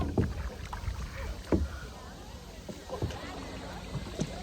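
Boat moving across open water near Cadlao Island, El Nido, Palawan, with a steady low rumble and periodic hull slaps against small waves, wind brushing the microphone throughout.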